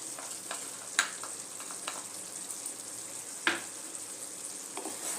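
Cashew paste sizzles and fries steadily in a pan for Chicken Lababdar, with a few sharp spoon clinks against the pan while it is stirred; no talking.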